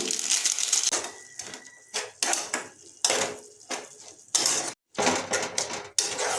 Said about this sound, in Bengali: এবার এটাকে আমরা কিছুক্ষণ খুন্তি দিয়ে নাড়িয়ে নেব